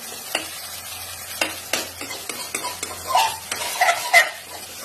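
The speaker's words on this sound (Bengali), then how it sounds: "এরকম কিছুক্ষণ নাড়াতে থাকতে হবে।" A spoon stirs a baby rohu fish curry frying in a pan, giving soft scraping strokes and clinks over a continuous oily sizzle, close up with no talk.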